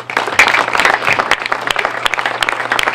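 An audience applauds the Atman team at the opening of an osteopathy centre in Sophia-Antipolis, lively close clapping with distinct individual claps over a steady low hum.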